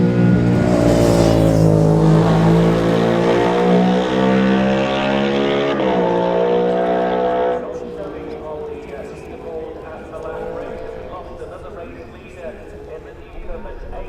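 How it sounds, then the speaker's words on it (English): A racing motorcycle in the Isle of Man Manx Grand Prix newcomers race at Ballacraine, a loud engine roar rising and falling as it passes close by, then a quieter fading drone while a commentator talks over it. "I can hear Paul Fallon's bike in the distance"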